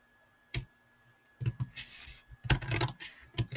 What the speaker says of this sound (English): I'm going to cut across here.